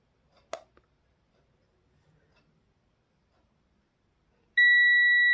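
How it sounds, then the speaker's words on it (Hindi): A multimeter gives a steady continuous beep as its probes bridge a mobile phone fuse in a continuity test, starting abruptly after a faint tap and near silence, loud and close. "फ्यूज़ को जैसे ही हम आपस में मिलाते हैं तो ये बीप की आवाज़ करता है"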